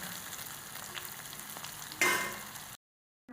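Onion hits a hot pan and fries with a continuous close sizzle and a sharp louder hiss near the end, then the sound cuts off into silence.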